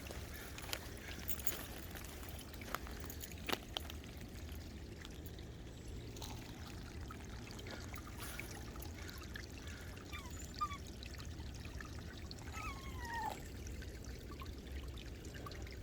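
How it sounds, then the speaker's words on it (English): Water flows over stones and rocks in a woodland stream, a soft, steady trickling and pouring that runs throughout, fairly quiet and close, with occasional small splashes and knocks. "I just think the sound of water going over stones and rocks is the best sound in the world."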